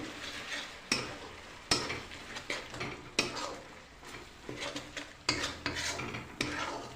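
A tilapia fish curry is stirred in a pan: a quiet simmering sizzle is broken by a series of sharp spoon scrapes and knocks against the metal at an irregular pace, with no one speaking.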